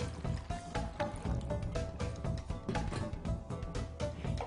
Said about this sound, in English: Pour a generous amount of warm water into the pot.